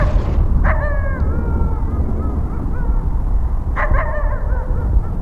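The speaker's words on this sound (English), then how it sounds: "now the dog is barking. Some dog past the woods" A dog barks beyond a stretch of woods at night, a few distant barks in two short bursts heard over loud steady rumbling background noise.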